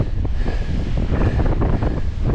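Strong wind buffets the microphone of a HoverAir X1 ProMax drone outdoors, making a loud, steady low rumble with gusty roaring and no voices.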